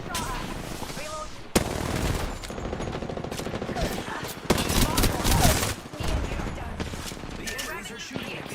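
Rapid gunfire from enemies in an online shooter game, bursts of automatic fire crackling continuously and loudly, with sharp louder volleys mid-clip and a voice talking underneath.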